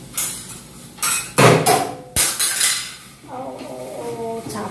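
A metal kitchen utensil clattering as it is dropped beside a pot of boiling water, several loud bangs and clanks in quick succession followed by lighter ringing rattles as it settles.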